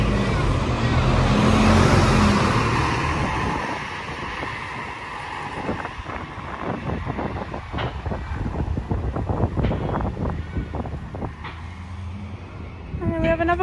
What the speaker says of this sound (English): Another bus arriving,